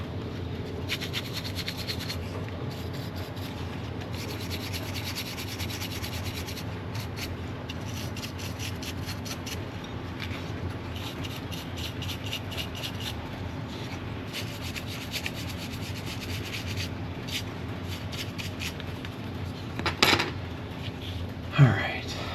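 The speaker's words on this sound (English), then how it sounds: "we'll give this tender body a little brush" A small brush scrubbing the tender body of a Roco BR18 model steam locomotive, a steady close rasping rub that goes on for many seconds, with a few sharper scrapes and knocks near the end.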